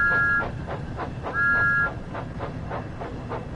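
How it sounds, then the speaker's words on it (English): A steam locomotive whistle in Train Sim World 5, Thomas and Friends, giving two short steady toots over a rhythmic chuffing exhaust that beats regularly underneath, close and fairly loud. "Did a long whistle."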